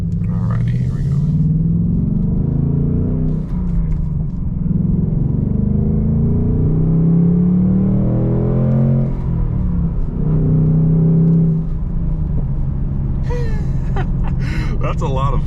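A 2024 Ford Mustang GT V8 with the six-speed manual pulls hard through the gears, its engine note rising and dropping with each shift, loud and close from inside the car throughout.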